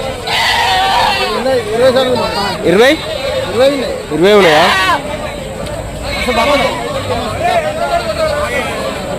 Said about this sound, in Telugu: చూడండి మేకలు మొత్తం ఎన్ని మేకలు నాన్న?